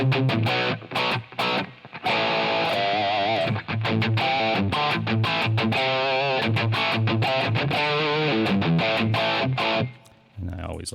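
Electric guitar played through a crunch distortion patch with a touch of reverb, loud and continuous with strummed chords and short single-note runs, cutting off briefly near the end.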